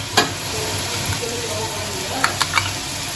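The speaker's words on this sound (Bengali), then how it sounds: "এবার এর মধ্যেই আমি 2 চামচ মতো নারকেল কোড়া দিয়ে দেবো, এর সাথে একটু নারকেল কোড়াটাও ভাজা হবে।" Grated coconut frying in a pan with turmeric for a vegetarian banana-flower dish, a loud continuous sizzle broken by a few sharp clicks of stirring against the pan.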